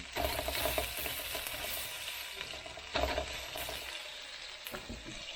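Garlic frying in a pan, a steady close sizzle with stirring scrapes and a couple of louder bursts as it is moved around, no voices.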